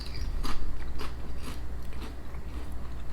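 Potato chips with a mild onion soup flavor from a Daiso snack bag are crunched close up, sharp crackling bites and chewing in an uneven rhythm.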